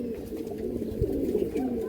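Pigeons in a loft in Behala coo softly and continuously, a low, steady murmur of several birds close by with no talk.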